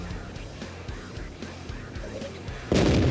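A tank cannon fires in a World of Tanks style battle game, one sharp loud blast at the end following a stretch of rhythmic engine rumble and faint distant gunfire.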